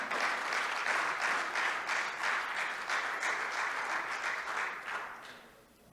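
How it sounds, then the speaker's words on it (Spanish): A church congregation bursts into sustained, dense applause at full strength for about five seconds, then tapers off toward the end. "Denle un aplauso al Señor"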